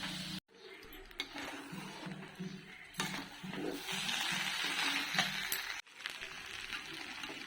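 Chicken pieces frying in ghee with a little white oil, a steady hiss filling most of the stretch with rhythmic low stirring or scraping in the pan and a brief clink.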